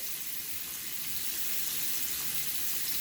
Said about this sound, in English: I'm going to go ahead and open the faucet